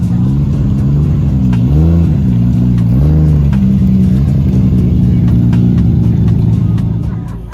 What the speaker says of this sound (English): This rad GTR. This car sounds super aggressive.